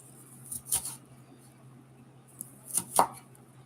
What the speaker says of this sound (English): So we're going to see if we can dice this a little better